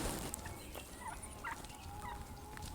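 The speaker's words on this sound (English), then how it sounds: "Here come the gobblers in the back." Wild turkey gobblers gobbling in the distance during a Kansas spring turkey hunt, with several faint calls standing out over steady outdoor background noise.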